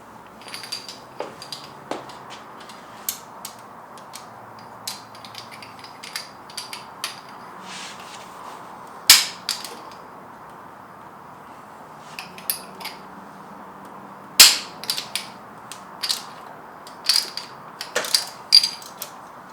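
Spark plug wrench working on a BMW E30 engine during head gasket work, giving scattered metallic clicks and clinks, a few sharper louder ticks standing out over a quiet, slightly hissy background, with no talking.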